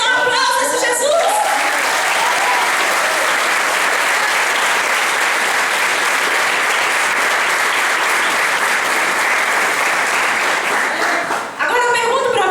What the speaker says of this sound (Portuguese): Mais forte ainda, dá um aplauso a esse Jesus.